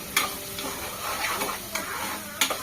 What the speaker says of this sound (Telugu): ఇవైతే లైట్గా ఫ్రై అయిపోవాలా.